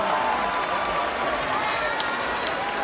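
Sustained applause from a large concert audience at the New Wave 2021 music festival, a dense, even wash of clapping and crowd noise with no break, while a presenter talks over it.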